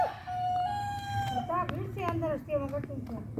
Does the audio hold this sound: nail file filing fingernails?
no